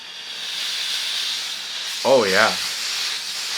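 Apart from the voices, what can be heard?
handheld clothes steamer releasing steam on high mode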